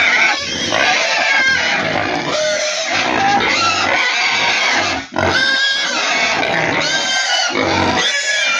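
A group of hogs on a farm feed on a substitute for regular hog feed, with loud, busy grunting, oinking and snorting that runs almost continuously and close by.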